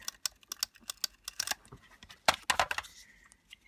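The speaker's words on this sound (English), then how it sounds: "So let's just do our tape runner on this" A tape runner rolling adhesive onto paper for a card project, a quick series of close clicks and ratcheting snaps in uneven bursts, with a short rough drag near the end.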